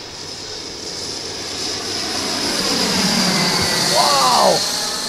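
A Viperjet MK2 radio-controlled jet airplane flies past on its first flight, a loud, steady turbine whine and rushing roar that swells and shifts in pitch as it passes overhead.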